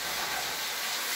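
Steady close hiss of Italian salad dressing sizzling as it hits home fries cooking in a hot pan, an even unbroken spray of sound with no voices.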